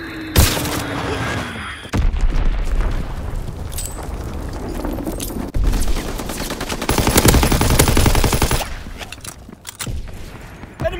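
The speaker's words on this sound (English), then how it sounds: "Enemy mortar fire incoming!" Enemy mortar fire and gunfire in the Call of Duty WWII video game, loud booming impacts and rapid machine-gun bursts in dense, chaotic battle noise.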